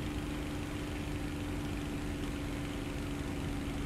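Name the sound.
twin-engine bomber aircraft engine drone in a flight sim video game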